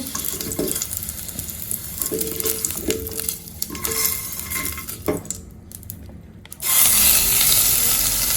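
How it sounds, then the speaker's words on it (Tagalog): Pork hits leftover oil in a pan after utensils clatter and stir against metal, then a loud, steady sizzle of frying takes over for the final seconds. "ipa-fry ko yung pork sa natirang mantika"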